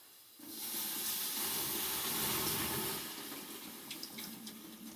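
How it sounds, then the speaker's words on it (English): Water pours from a bottle into a copper pan used as a steam box for chair making, a steady rushing hiss close by that eases off after a few seconds, with faint drips and no talking. "I'm going to pour a little extra water in it right now so it doesn't go dry."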